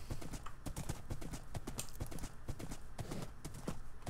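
Steady clip-clop of horse hooves at a brisk, even gait in a Minecraft UHC video game, close and fairly loud, with no voices over it.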